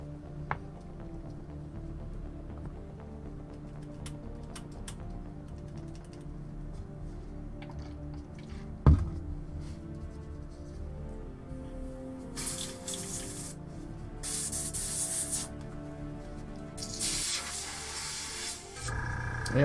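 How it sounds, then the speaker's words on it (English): Several short bursts of hissing from an airbrush spraying paint on miniatures, each lasting about a second, rising over a quiet room with faint background noise. "Airbrush."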